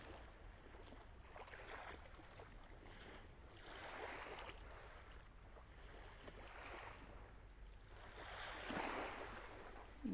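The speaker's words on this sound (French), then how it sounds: "Et je me laisse bercer par le bruit des vagues." Ocean waves wash ashore in slow, broad swells that rise and fall every couple of seconds, soft and distant, with a faint steady rush between surges and no voices.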